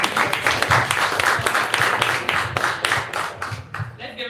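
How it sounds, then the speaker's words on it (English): Audience at a candidates forum applauding, a dense burst of clapping close by with steady rhythmic claps, fading near the end. "Let's give another round of applause."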